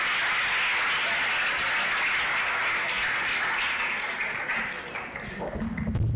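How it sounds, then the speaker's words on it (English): A church audience in Pretoria applauds the twelve disciples, a dense, steady burst of many hands clapping together that fades slightly near the end. "Clap for the 12 disciples."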